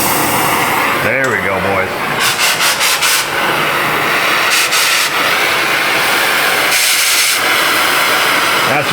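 A gas torch is purged and lit in a workshop, giving a loud, steady hiss that runs the whole time, with brief harsh bursts as the flame catches and someone speaking over it.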